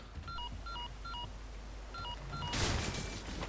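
Phone dialing in the Resident Evil 4 Remake video game: two short runs of clean keypad tones pressed one after another, then a louder burst of static noise at the end, no talk.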